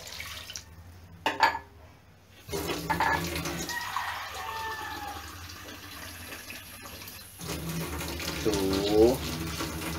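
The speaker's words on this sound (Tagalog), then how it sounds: "lagyan ng 6 na tasang tubig" Six cups of water poured into a cooking pot for chicken tinola, a steady splashing pour under light kitchen noise, with a brief clatter near the start and a louder gush toward the end.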